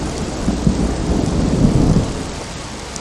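Steady heavy rain pours with low rumbling thunder rolling underneath, loud and continuous with no voices.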